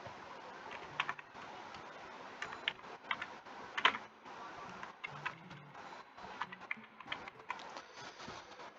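Quiet typing on a computer keyboard, with irregular bursts of light key clicks and a few sharper taps, close and alone throughout.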